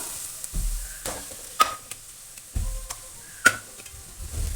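Shallots and sliced onion sauté in oil for a Kerala catering-style chicken curry, with a faint sizzle under a few sharp spatula scrapes and knocks against the pan, spaced irregularly.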